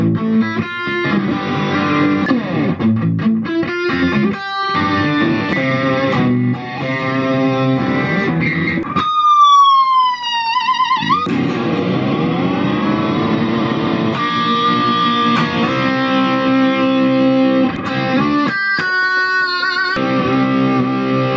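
An EVH Striped Series Frankenstein Relic electric guitar with a Floyd Rose tremolo, made in Mexico, plays distorted riffs and chords with a dive-bomb whammy swoop partway through, loud and close with no voices.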